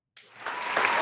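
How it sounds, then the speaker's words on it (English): Applause starts abruptly after a moment of silence and swells, a crowd clapping steadily and growing louder, no voices on top. "There's applause."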